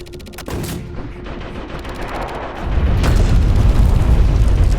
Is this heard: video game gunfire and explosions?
yes